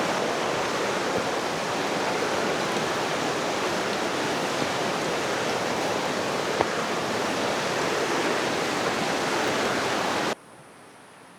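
A river flows in the woods, giving a loud, even rushing roar that holds steady for about ten seconds and then cuts off abruptly to near quiet.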